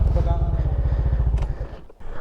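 Motorcycle engine rumbling near and steady, a regular low pulsing under people talking, fading slightly toward the end on a road near Ampasit Falls.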